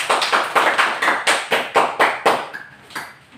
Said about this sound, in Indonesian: Tepuk tangan untuk tamannya terlebih dahulu.